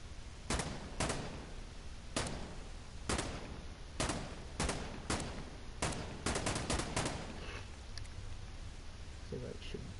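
Single rifle shots from a 5.56 weapon in Insurgency Sandstorm ring out loud and evenly spaced, then a quicker cluster of rounds fires before the shooting fades.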